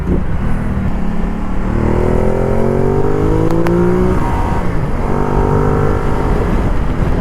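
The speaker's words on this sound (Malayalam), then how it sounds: "ഇത് 1196cc വരുന്ന ഒരു L-twin എഞ്ചിനാണ്" A Ducati Multistrada 1200 S with its 1196cc L-twin engine accelerates hard, loud and close, with rising gear-by-gear engine pitch sweeps and a brief drop between shifts.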